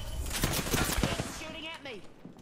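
Video game gunfire rattling in rapid close bursts for over a second, then fading into quieter shots and trailing game effects.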